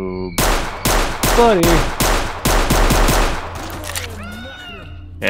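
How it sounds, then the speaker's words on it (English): Bursts of automatic gunfire in the STALKER game, four or five loud, sustained volleys in a steady rhythm with brief gaps, while someone talks over the shooting. "I start shooting off some of this ammo as well."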